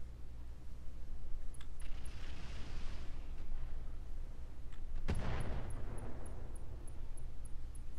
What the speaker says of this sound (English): Artemis explosion.